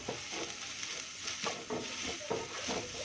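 Onion, green chili, ginger and garlic fry in a pan for gobi Manchurian, with a continuous hissing sizzle and a few rhythmic stirring scrapes close up, no talking.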